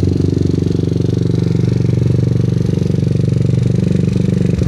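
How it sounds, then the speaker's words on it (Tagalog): A Yamaha Aerox 183cc motorcycle idles loud and close with a deep, steady rumble, its pulsing beat holding an even rhythm throughout. "Ang ganda ng pagkakatono ng idle rumble."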